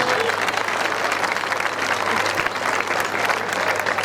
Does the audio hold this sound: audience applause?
yes